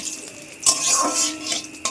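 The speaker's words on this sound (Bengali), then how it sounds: "তেজপাতা আর গোটা জিরে ফোড়নে দিয়ে দিলাম। এটাকে এখন ভালো করে নাড়াচাড়া করে নিয়ে" A spoon scraping and clinking in a pan as bay leaves and whole cumin are stirred in the tempering, over a light sizzle, with a few louder scrapes.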